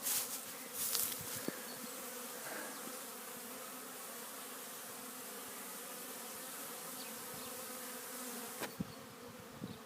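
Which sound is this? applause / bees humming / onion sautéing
bees humming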